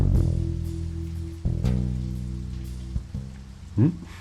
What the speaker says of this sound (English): I stood in the rain and waited for the detective to arrive.